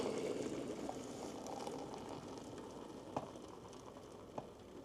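Hot water pours into a mixture of egg yolk, a soft continuous liquid rush and faint bubbling, quiet and steady, with a couple of small clinks near the end.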